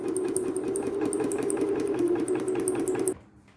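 A sewing machine runs steadily at speed, its needle stitching with a rapid rhythmic clatter over a constant motor hum, close and loud, then stopping abruptly near the end.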